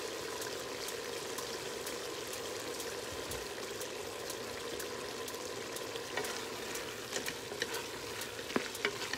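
Spoon stirring five bean chili ingredients in a pot, a faint continuous scraping and bubbling sizzle with a few sharper clinks near the end, no voices.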